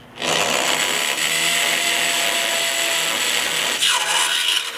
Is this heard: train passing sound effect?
no